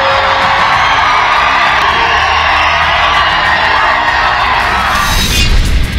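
A large political rally crowd roars and cheers continuously at close range, a dense wall of shouting and whooping with clapping mixed in, rising into a sharper burst near the end.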